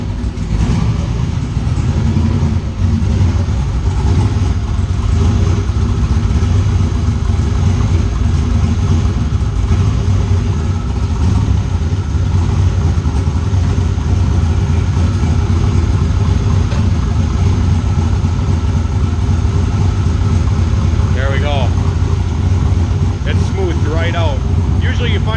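A car engine idles steadily in a shop with a newly installed hoist lift, a continuous low rumble running throughout with no throttle, and brief faint chirps near the end.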